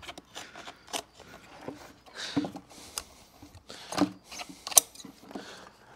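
Scissors snip through traction strip material being trimmed to fit a Power Wheels John Deere Gator wheel, giving several irregular close cuts with small handling rustles between them.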